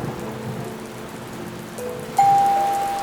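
Steady rain hiss, likely a heavy downpour in a Hindi cartoon scene, fills the background throughout, and a bright sustained chime rings out near the end.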